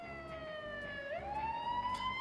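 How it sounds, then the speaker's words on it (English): Fire engine sirens wail in the emergency-response game Emergency 4, a single rising and falling siren tone sweeping steadily at moderate distance, with no talk. "Fire engines are coming."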